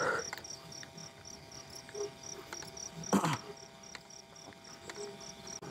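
Fighting crickets kept for contests chirp in steady, pulsing trills at a gathering spot, faint to moderate and continuous throughout, with a brief louder knock partway through.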